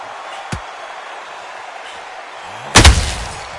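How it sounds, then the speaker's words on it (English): A boxing counter punch lands in the Undisputed video game as a sharp, loud thud near the end, preceded by a fainter single impact early on over quiet arena ambience. "Good counter punch."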